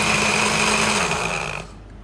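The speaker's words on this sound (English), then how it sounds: "I have a blender here." A blender blending chana dal with water whirs at high speed with a loud, steady motor whine, then cuts off abruptly after a couple of seconds.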